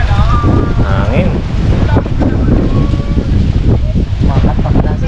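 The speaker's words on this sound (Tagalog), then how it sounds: "Hangin." Steady wind buffets the microphone with a constant low rumble, while voices talk intermittently underneath and water washes in the background.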